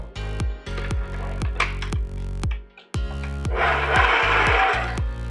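A stand mixer with the paddle attachment beating gougère cheese puff dough, a steady motor hum with a regular thumping knock as the paddle turns, close and fairly loud, with no one talking.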